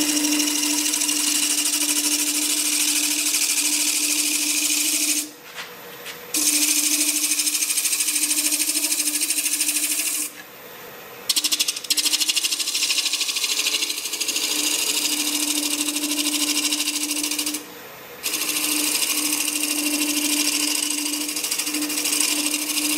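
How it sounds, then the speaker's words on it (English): Steel scraping tools refine the outside of a turned wooden hollow form on a running lathe, a steady whirring scrape with a constant motor hum that stops briefly a few times. "I'm going to take a couple of my favorite scraping tools and just fine-tune the outside of this."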